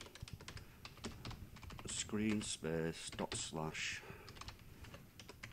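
Rapid keystrokes on a computer keyboard while setting up a Minecraft server on Linux, close and clicky in short bursts, with someone speaking briefly over the typing.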